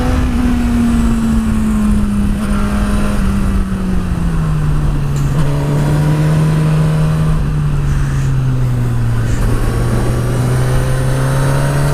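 A Suzuki GSX-S1000 motorcycle pulls away uphill and accelerates, its engine note loud and close, a steady drone that sags slightly in pitch through the gear changes, with constant wind rush and no talking.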